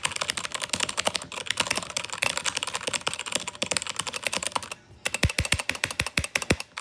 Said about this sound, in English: You see how quieter this one is with the cherry brown switches.